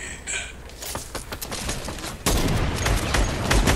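Video game gunfire crackles in rapid bursts, a string of sharp shots that grows into a louder, denser volley partway through.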